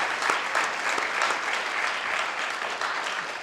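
An audience at an alumni gathering breaks into steady, dense applause, many hands clapping together at a constant level for a few seconds, with no voices standing out.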